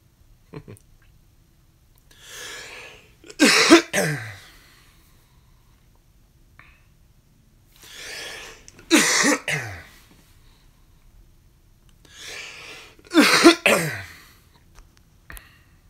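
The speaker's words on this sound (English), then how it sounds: "I wish I could mute so you guys didn't have to hear me cough." A person coughs and clears their throat in three separate harsh bursts a few seconds apart, close to the microphone, with quiet gaps between them.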